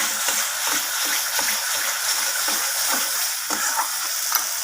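Cashew paste being stirred into a rui fish kalia in a hot pan, a loud close sizzle with rhythmic scraping strokes of a spoon repeating every second or so, no voices.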